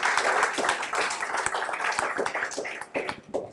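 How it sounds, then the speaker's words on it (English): A round of applause for a speaker named Ayo at a power-sector panel dialogue, with dense, steady clapping from an indoor audience lasting throughout and a few louder claps near the end. "A round of applause for Ayo."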